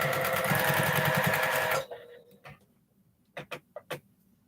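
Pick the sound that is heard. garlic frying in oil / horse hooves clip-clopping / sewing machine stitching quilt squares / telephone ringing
sewing machine stitching quilt squares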